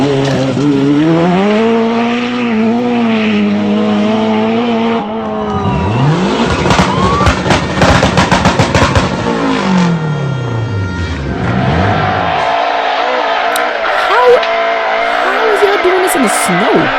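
Rally 4 rally car driving on snow, engine revving hard through gear changes with rising and falling pitch, loud and close, with bursts of tire noise and a passing roar as it speeds by.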